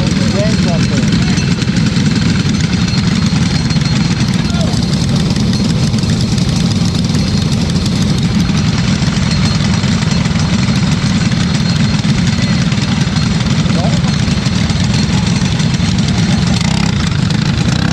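LO206 racing kart engine roaring loudly and steadily at the start of a four-hour endurance race at Orlando Kart Center, a close, continuous drone with no clear pauses.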